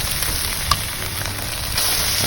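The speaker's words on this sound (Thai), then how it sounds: "กะปิ ครับ ตำโขกลงกันเข้าไป ผัดเลย" Pounded shrimp paste with chillies and garlic stir-frying in a hot pan, a loud steady sizzle with a brief scrape of stirring, continuous and close with no talking.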